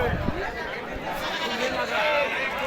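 Native village goats and bucks bleat in a busy rural livestock market, the cries close and overlapping amid a constant crowd murmur and nearby chatter.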